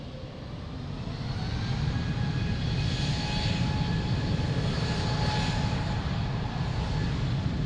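An airliner takes off from Lisbon Airport, its engines a steady, loud broadband roar that holds strong and even throughout, with no talk over it.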